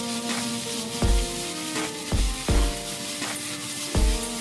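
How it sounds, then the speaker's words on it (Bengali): Drumstick flowers fry in hot oil, a soft steady sizzle broken by several sharp knocks of a utensil against the pan, close by. "এবার ওই তেলের মধ্যেই ফুলগুলো দিয়ে দিলাম।"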